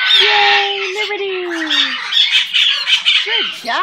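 A pet baby bird gives a run of loud, close squawks and harsh calls, with sliding, whistle-like cries toward the end, while a person may speak softly under the calls.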